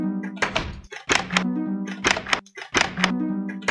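Minecraft note blocks wired as a doorbell play a short tonal melody of several plucked, bell-like chimes in quick groups, clear and close with no speech.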